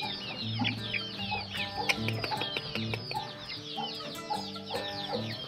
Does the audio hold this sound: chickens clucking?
yes